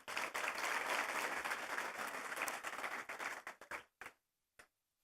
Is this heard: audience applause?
yes